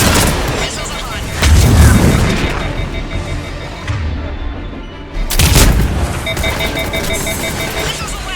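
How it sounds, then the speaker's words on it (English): Missiles launch in Mass Effect 3, loud booming blasts and rocket whooshes in two heavy bursts with rumbling fire between them and a beeping tone, while voices talk underneath. "Missiles away."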